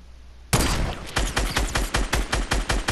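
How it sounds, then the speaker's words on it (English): Rapid gunfire in a squad-based shooter video game, a sudden burst followed by a steady rhythmic string of about a dozen loud, punchy shots, close and alone without talk. "I hear shots."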